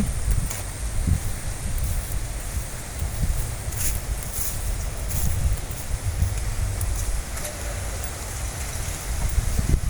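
Steady wind blowing with rustling, gusty noise and occasional soft crackles, no voices.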